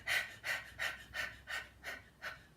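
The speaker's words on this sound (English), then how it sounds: "So we're going to practice breathing quickly." Quick rhythmic panting as after running, seven short, breathy in-and-out puffs in a steady fast rhythm, close and clear with no talking.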